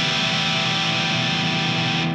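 Electric guitar with unmuted strings rings out noisily, a dense, sustained distorted wash of tones holding at full loudness for two seconds before cutting off abruptly.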